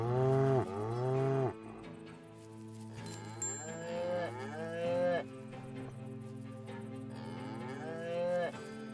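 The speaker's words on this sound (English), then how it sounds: "This one cow is a diva." A cow moos repeatedly in the western game Above Snakes, loud, drawn-out lowing calls that come one after another at close range, with no talk over them.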